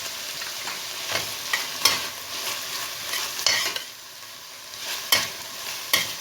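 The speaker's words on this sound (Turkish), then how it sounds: "Yağla biraz salçam kavrulsun." Tomato paste fries in hot oil in a pan for an oven-baked eggplant kebab, giving a steady close sizzle broken by sharp scraping stirs every second or so.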